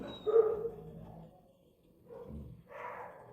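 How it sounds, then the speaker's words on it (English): A skinny dog barks twice, one short bark near the start and a second about two seconds later, both fairly muffled with a quiet gap between them. "I'm trying to mute some of the dog barking"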